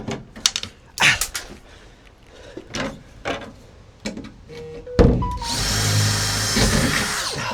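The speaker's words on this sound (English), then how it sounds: "That'll drill through." A few scattered knocks and clatters, then an electric drill spins up and bores steadily through a wooden plank for the last couple of seconds, building a bed in a van.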